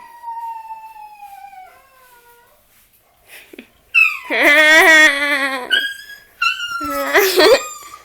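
A puppy cries with thin, high, drawn-out whines that fade, then after a short gap breaks into louder, wavering yelping wails in two close bursts.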